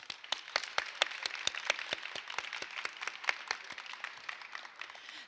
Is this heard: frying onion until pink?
no